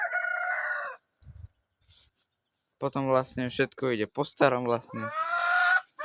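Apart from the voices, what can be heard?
hens clucking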